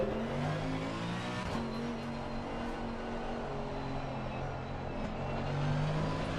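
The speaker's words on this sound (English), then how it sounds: "The big engine. V8. Listen to that." A V8 race car engine in Assetto Corsa Competizione hums with a steady harmonic drone, rising and falling in pitch through gear changes as the car accelerates, moderately loud and continuous.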